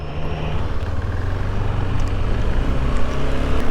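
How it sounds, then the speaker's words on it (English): A loud, steady engine drone with rushing wind noise, like riding on a motorcycle at speed, continuous throughout with no voices. "I'm on a motorcycle and I get to ride."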